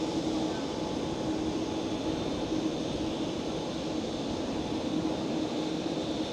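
A Lufthansa A321 airliner climbs out from runway 18 left at Schiphol, a steady, moderately distant jet roar that holds throughout with a faint whine on top.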